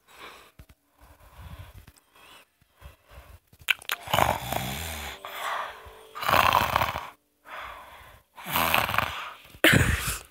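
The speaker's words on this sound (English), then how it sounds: "He's snoring." Loud, rhythmic snoring breaths from a Roblox game character repeat in bursts, close and prominent, with a few softer snorts and sniffs between them.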